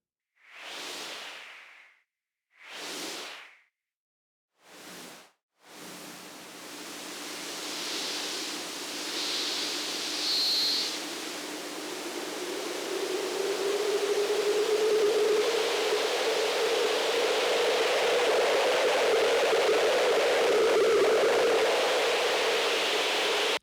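A no-input mixing board with an aux feedback loop and noise fed into it: a few short swelling noise bursts, then a sustained hissing wash with a faint tone emerging near the edge of oscillation, alone and moderately loud.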